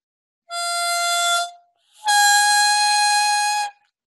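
A harmonica held upside down and turned vertically plays two long, loud held chords, the first about a second, the second about a second and a half after a short pause, with no talk.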